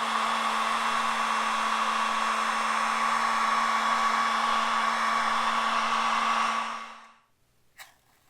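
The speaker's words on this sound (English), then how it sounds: "So just going to use a heat gun, take my time, slowly peel it back" A heat gun blows a loud, steady whirring hiss with a fixed tonal whine, softening a sticker on a 1993 Mustang for peeling, then winds down and stops, followed by a faint tap.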